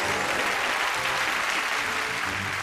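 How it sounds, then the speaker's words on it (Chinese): A studio audience claps at a television variety show, with dense, sustained applause that stays loud and even from start to finish and carries no voices. "掌声鼓励。"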